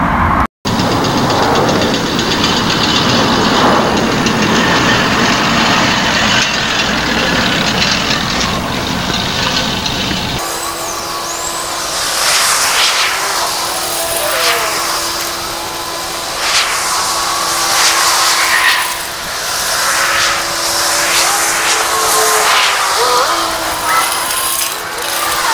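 A Fiskars StaySharp Max 18-inch reel mower cuts through tall weeds outdoors with a steady whirring, rattling drone; partway through the tone shifts and a rhythmic series of brisk swishing strokes comes through over the running blades.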